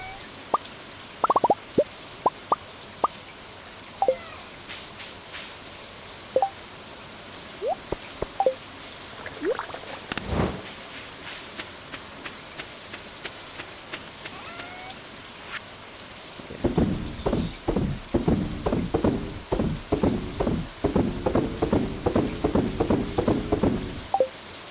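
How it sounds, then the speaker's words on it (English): Rain in Stardew Valley, a steady wash of rainfall with scattered plops and droplet ticks. A low rumble sounds midway, and denser pattering comes in toward the end. "This looks like a normal rain, though."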